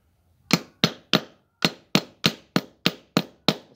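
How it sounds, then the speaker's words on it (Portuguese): A hammer drives a rivet into a Fiat Uno brake lining with about ten sharp, close, evenly spaced blows after a short pause, each a crisp knock that decays quickly. "Eu venho por cima aqui com o martelo"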